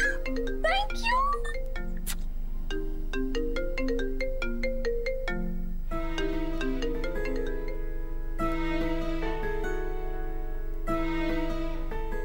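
A phone ringtone plays a bright electronic melody over and over, clear and steady, with no voices over it.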